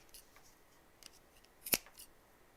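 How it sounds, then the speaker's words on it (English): Sharp scissors snip through embroidery floss while a pom pom is made, giving one crisp, close cut that stands out against near silence, with a couple of fainter rustles around it. "Sharp scissors."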